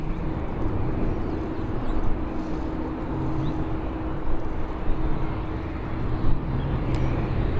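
A TUI Boeing Dreamliner at Birmingham Airport gives off a steady, distant low jet rumble and roar that holds constant throughout, with no talking.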